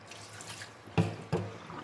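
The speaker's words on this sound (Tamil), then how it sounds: "இது மாதிரி ஒரு அஞ்சாறு டைம் நம்ம இதே பாத்திரத்துலேயே தண்ணி ஊற்றி நம்ம கழுவுனோம்னா அந்த மணல் அடியில் வந்து நின்றுக்கும்" Water is poured into a vessel to wash dried anchovies (nethili karuvadu) and settle out sand, two short, close splashes after a faint trickle.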